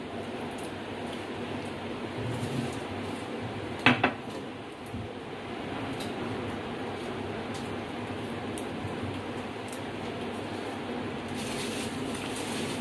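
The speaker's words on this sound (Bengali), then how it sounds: "গরম মশলাটা ভালো করে মিশিয়ে নেব।" A spoon works ground garam masala paste into a simmering potato and pointed gourd curry in a pot, giving soft scraping over a steady background hiss, with a couple of sharper metal clinks near the middle.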